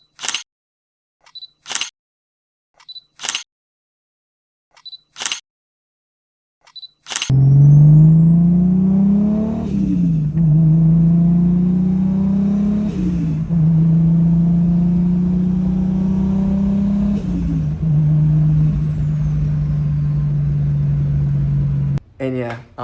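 Car with a 2JZ engine swap idles and pulls away after a few sharp clicks, its steady engine drone rising and falling as it drives, close and fairly loud.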